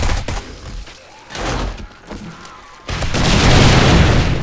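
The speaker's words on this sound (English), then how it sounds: "Oh, massive explosion." A rocket explodes in the 7 Days to Die video game (Darkness Falls mod) near a reinforced titanium base, with heavy booms and thuds that swell into a loud, sustained rumbling blast.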